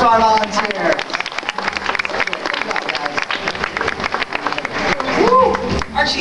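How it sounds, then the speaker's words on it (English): Audience at an outdoor bird show clapping for a volunteer, a broad wash of applause and crowd murmur with a presenter's voice over it at the start and the end. "Let's give a nice round of applause to our volunteer"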